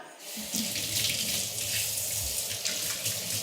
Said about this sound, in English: And again, wash my hands really good.